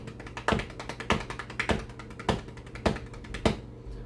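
Sharp hand taps on a hard surface in a steady run of sextuplets, with louder accented strikes recurring at regular intervals, close and clear, no talking.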